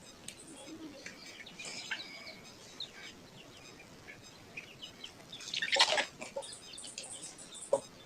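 Local chickens peck at homemade poultry feed, making faint scattered taps with soft clucks and a short louder flurry near the end, heard at low volume.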